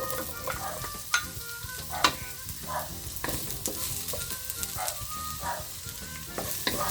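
Onion sizzles and crackles in a pan of frying ground meat, with garlic already cooking, while a utensil stirs and scrapes at an irregular rhythm. The steady close hiss carries no talk.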